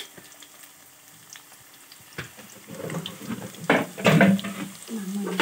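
French fries frying in oil over a low to medium flame: a soft bubbling sizzle that grows louder and more crackly partway through, with occasional stirring clatter close by.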